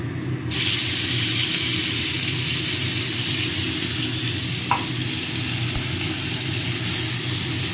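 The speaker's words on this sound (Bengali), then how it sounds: "পেঁয়াজ রসুন কাঁচা লঙ্কা টমেটো পেস্ট করে রেখেছি পেস্টটা দিয়ে দিলাম" A paste of onion, garlic, green chili and tomato hits hot oil in a pan for a jackfruit curry, bursting into a loud, steady sizzle that continues unbroken at close range, with a brief clink of a utensil.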